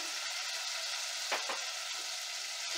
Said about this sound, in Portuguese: Veja, molho fervendo.